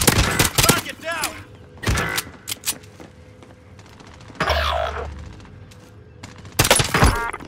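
Gunfire in Call of Duty: Warzone Pacific, with loud clustered bursts of shots near the start, around two seconds, mid-clip and at the end, mixed with game effects and shouted player voices.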